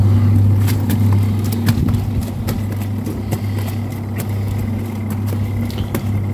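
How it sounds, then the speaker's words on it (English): A small Cosvalve washing machine runs its spin cycle, giving a loud, steady motor hum with scattered light clicks and rattles throughout. "what we're going to do is turn this to spin and put that on for"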